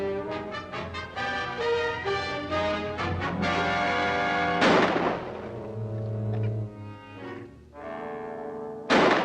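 A sudden gunshot cracks out over swelling, ominous orchestral music in a horror film scene, followed by another sharp burst near the end.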